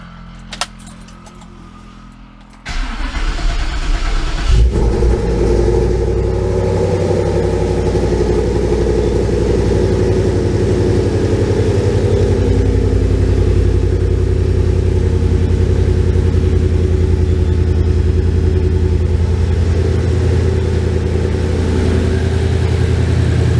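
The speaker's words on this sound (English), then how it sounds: "Now we're going to try and fire this thing up and see if we got any leaks on it." Keys jangle, then a car engine fitted with a new exhaust and catalytic converters cranks and starts, settling into a loud, steady idle that rumbles on for about twenty seconds.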